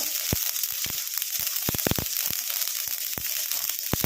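Mustard seeds spluttering in hot oil in a pan on low flame, sharp scattered pops and crackles bursting irregularly over a steady frying hiss, close and fairly loud, with no talking.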